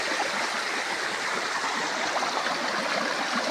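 Steady rushing of a flowing stream, water babbling continuously over rocks at close range with no voices.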